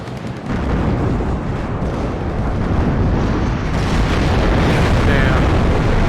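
Heavy bomb loads from an F4 bomber strike the ground in WARNO, a Cold War real-time strategy game. The result is a sustained, loud, rumbling barrage of explosions that grows denser toward the end.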